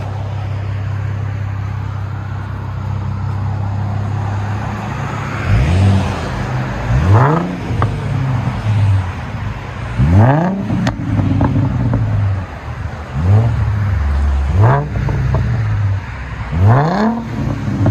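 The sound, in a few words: Ford Mustang V6 exhaust revving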